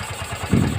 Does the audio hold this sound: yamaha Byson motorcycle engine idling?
yes